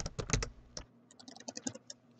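Password being typed on a computer keyboard: a quick burst of close, crisp key clicks, a short pause, then a second lighter run of taps.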